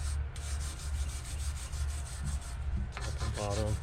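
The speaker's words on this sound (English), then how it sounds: "take your wire brush, just clean up any rust" A wire brush scrubs rust and debris off rear brake parts on a 2008 Ford F150 during a rotor and pad replacement. The brush makes a rough, rhythmic, close scratching sound in repeated strokes, with a few brief metallic clinks near the end.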